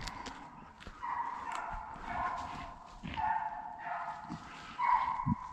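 Hunting dogs bark and yip in a running chorus during a Virginia deer hunt, steady mid-distance baying with sharper yelps near the end, over outdoor rustle.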